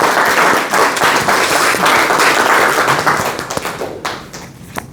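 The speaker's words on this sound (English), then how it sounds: "I think we have to give him one more round of applause." An audience at a Toastmasters meeting gives a round of applause, loud and dense at first, then thinning into scattered claps and fading toward the end.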